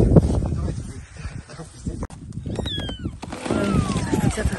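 Kittens in a box give several rising and falling high-pitched cries, mixed with close rustling and handling noise while people talk over them.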